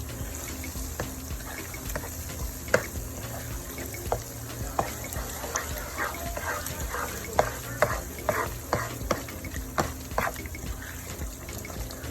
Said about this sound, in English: your tomato paste has fried for quite a bit